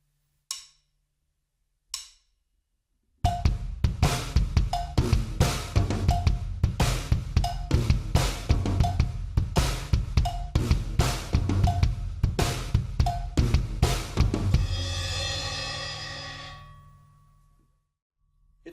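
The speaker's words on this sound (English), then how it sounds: "right hand on cowbell, left hand on snare can sound like this" A halftime drum groove played by hand alone, with cowbell and snare hits, loud and close; a short pair of strikes comes first, then a steady pattern that ends with a ringing crash decaying away.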